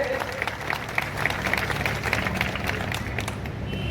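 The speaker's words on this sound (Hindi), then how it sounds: "गर्व की बात है, सभी तालियां बजाएंगे।" An audience claps steadily throughout, a dense patter of many hands at moderate volume that tapers slightly toward the end, at a ceremony honouring meritorious students.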